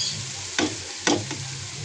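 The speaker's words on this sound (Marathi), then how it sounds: "आपला असा मसाला चांगला हे झाला आता परतून झाला आहे कांदा टोमॅटो लसूण" A sautéed onion, tomato and garlic masala sizzles in the pan while a spoon stirs it, giving two or three short scraping bursts over a low continuous fry.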